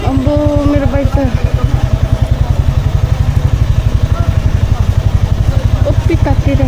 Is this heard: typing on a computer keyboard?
no